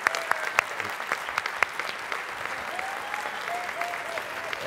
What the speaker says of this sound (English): So a big round of applause to bring him out.